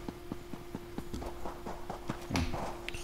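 Hoofbeats of a horse ridden in Elder Scrolls Online: a steady, close, rhythmic clip-clop of several evenly spaced strikes over a constant background tone.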